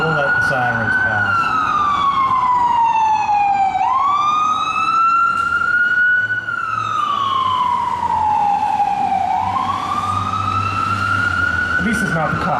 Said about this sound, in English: We'll let the sirens pass.